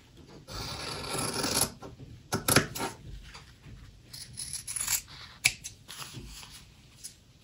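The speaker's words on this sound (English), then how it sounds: "I'll trim that fabric." Scissors trim quilting fabric by eye for English paper piecing, making a run of close, crisp snips and rustling cuts in uneven bursts, with soft handling noises between them.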